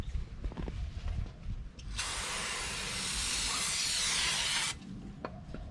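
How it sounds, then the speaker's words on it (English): Brake cleaner sprayed onto a coated rear brake rotor of a 2010 Subaru Outback: one steady, loud aerosol hiss lasting nearly three seconds, between quieter workshop clatter. "I'm going to be cleaning this rotor with some brake clean."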